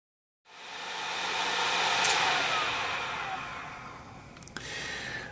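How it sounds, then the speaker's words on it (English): A heat gun blows steadily on clear shrink wrap around the rungs of a model ship, a close, continuous airy roar that starts abruptly and holds for several seconds with a few faint clicks near the end. "I'm going to use the heat gun just to sort of speed things up a bit."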